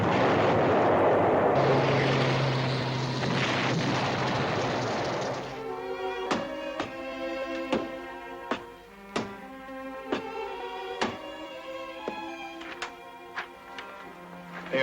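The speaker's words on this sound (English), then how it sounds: "Give me battalion artillery." Battalion artillery fire in a war film: a roaring barrage fills the opening seconds, then a steady run of sharp, separate booming blasts follows at roughly regular intervals, loud and close.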